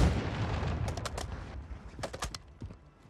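Several sharp gunshots from armor-piercing rounds in Call of Duty on Rebirth Island, a quick cluster of cracks followed by a few more spaced shots, fairly quiet in the mix.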